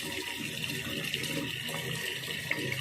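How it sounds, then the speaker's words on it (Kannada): Water runs steadily from a tap, a soft continuous splashing with occasional gurgles, fairly quiet. "ಟ್ಯಾಪ್ ಬಿಡಿ ಇಂಚ ನೀರು ಬಿಡುವುದು"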